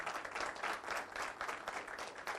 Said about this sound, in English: big round of applause for Ravi.